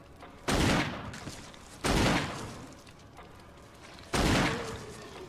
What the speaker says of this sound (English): Oh, excellent sharp shooting, Tex